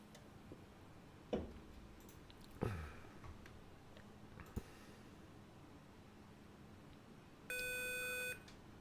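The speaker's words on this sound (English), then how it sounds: "So now they are ringing me, so I need to answer the interphone" A short electronic interphone call chime rings from an Airbus A300-600 cockpit panel in a flight simulator after a few scattered clicks and taps, steady tone lasting under a second, fairly clear above background hum.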